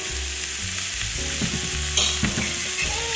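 A steak sizzles loudly in a hot pan with melting butter, a dense continuous crackle with occasional clinks of a utensil stirring or basting.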